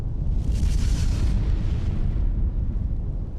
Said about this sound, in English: all three craters on the volcanic island of Krakatau erupted in a massive volley of explosions